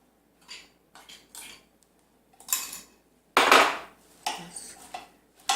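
Spoon scraping and clinking in a bowl while spinach and moong dal pakora batter is mixed, in several short bursts with pauses and a louder stretch of stirring near the middle.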